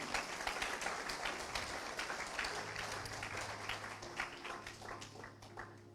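Church congregation clapping at a sermon, a dense, fairly quiet patter of many hands heard from a distance, steady throughout with a low hum beneath.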